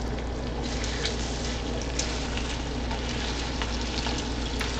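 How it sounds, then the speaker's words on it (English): Bacon frying in a pan, a steady dense sizzle and crackle with small pops, loud and close throughout without any talk. "Can you hear this bacon sizzling on stream?"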